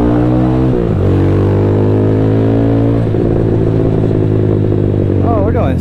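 Diablo motorcycle fitted with an Orion muffler, its engine heard close and loud with a strong harmonic drone, dropping in pitch as it shifts, then revving and climbing again as the bike rides and accelerates.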